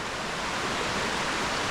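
Water flowing over a rock bed in the Vinadia canyon, a steady broadband rushing wash that is close and constant, with no other sounds.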